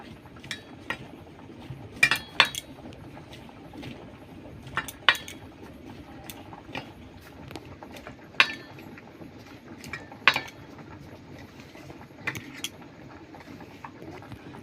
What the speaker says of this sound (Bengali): চিনি লবণ ভালো করে ময়ামটা মাখিয়ে নেব